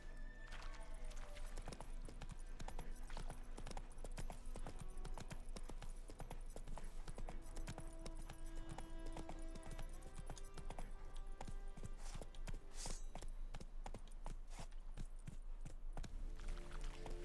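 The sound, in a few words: horse hooves clip-clopping, from a video game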